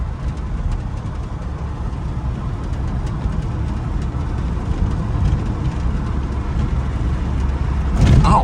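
An old barn find car drives along on a rough-riding road, with a low steady engine drone and road rumble from inside the cabin that swells slightly toward the end.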